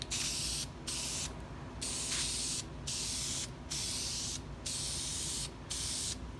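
A spray gun lays another light coat of paint on a car in a series of loud, close hissing bursts, each about a second long, with brief gaps between passes and no talking.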